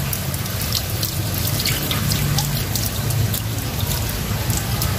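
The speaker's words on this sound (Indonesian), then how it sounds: "pada saat mengelus kita siram langsung dengan air seperti ini" Running water pours steadily and loudly over a Pureit water filter part being rinsed, a continuous splashing rush with faint drips and no talk.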